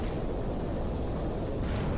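Video game missiles launch and explode in a game still in development, heard as a dense, continuous roaring rumble of blasts at close range, loud and unbroken throughout.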